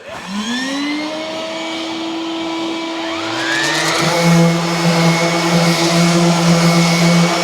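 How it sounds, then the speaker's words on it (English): A small orbital sander connected to a little shop vacuum for woodworking: a steady motor whine with a tonal hum that rises in pitch partway through as the sander spins up, continuous and close, no talking. "I have my little orbital sander hooked up to a little vacuum."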